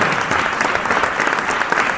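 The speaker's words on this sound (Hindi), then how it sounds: "इनके लिए एक बार तालियां बजा दीजिए" Dense, steady applause from an audience at an Urdu mushaira poetry gathering, sustained clapping filling the hall for the full two seconds with no voices standing out.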